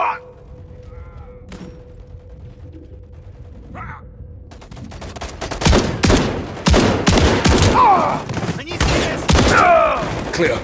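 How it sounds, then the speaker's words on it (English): Sustained automatic gunfire aimed at a hallway turret in Call of Duty: Modern Warfare 3 on PS5. Quiet at first with brief voices, then loud, dense bursts of rapid shots fill the second half. "Concentrate fire on the turret."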